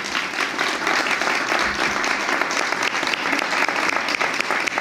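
An audience applauds two artists at a live talk, a steady, dense wash of clapping from a crowd that holds evenly for several seconds with no voices over it.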